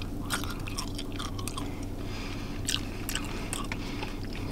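Close, crunchy chewing of a bacon, egg and cheese sandwich with crispy bacon from a deli, repeated bites and crackles over a steady background hum.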